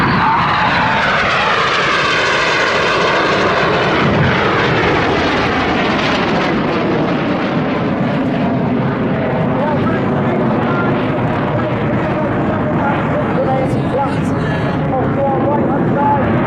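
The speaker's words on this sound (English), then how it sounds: "Each pair of aircraft will now dive down to only 100 feet above the beach." Red Arrows jet aircraft diving in pairs down to about 100 feet over a beach at the Southport Airshow, a loud continuous roar that swells and shifts in pitch as the jets pass close, with a commentator talking over it.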